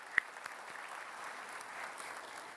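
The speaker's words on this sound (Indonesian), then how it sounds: "kita akan mulai dengan mempersilahkan tepuk tangan kepada kedua kandidat" Audience at a final-round Jakarta gubernatorial election debate applauds the two candidates, a soft, steady patter of clapping with a few sharper claps near the start, moderately distant.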